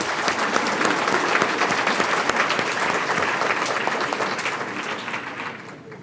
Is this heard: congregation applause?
yes